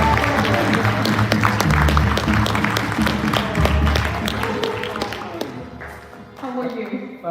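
A live audience at a talk event in Abu Dhabi applauds as a chef owner is welcomed, sustained full clapping that thins out toward the end as voices start speaking.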